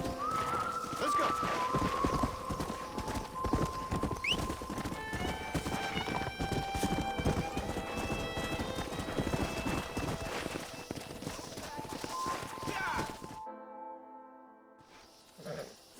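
Rapid, steady clip-clop of galloping horse hooves in Red Dead Redemption with a horse's whinny, running continuously before cutting out near the end.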